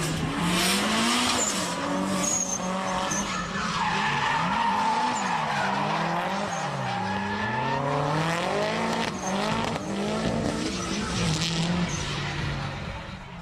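Drift cars skid at Calder, among them an Adelaide-driven PPG Skyline and an S14, with loud sustained tyre squeal and wavering engine howl throughout, continuous and close.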